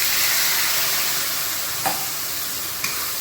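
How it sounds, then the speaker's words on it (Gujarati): A pan of spiced gravy for whole stuffed brinjal curry sizzles in a steady, loud hiss, with two brief scraping clicks of stirring as water goes in. "હવે નાખી દઈશું પાણી"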